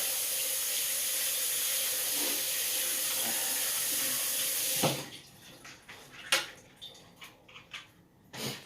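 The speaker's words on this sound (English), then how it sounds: "I am going to rinse these out because, you know, I don't need all of those seeds in there." Tap water runs into a sink as peppers are rinsed, a steady, loud hiss that cuts off around five seconds, followed by a few faint knocks and clatters of handling in the basin.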